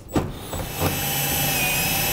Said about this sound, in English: Now I'm going to take a 7/8 hole saw.